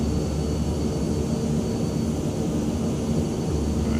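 A Beechcraft King Air in a flight simulator taxis with a steady, loud engine drone that runs unbroken from start to finish, with no voices over it.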